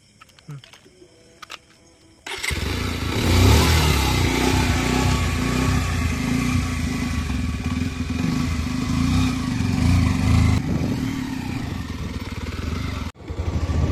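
A motorcycle rides along a desolate road at midnight, its engine droning loud and steady close to the recorder before cutting off abruptly near the end.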